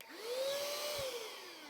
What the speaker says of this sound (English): to blow it out, whether through the vents or through the fan, you can use this canned air